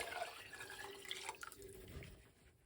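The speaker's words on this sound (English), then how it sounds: "So right now I'm adding the 6 cups of water that I'd measured previously." Measured cups of water poured into a cooking pot for khichri, a faint splashing and trickling stream lasting a couple of seconds.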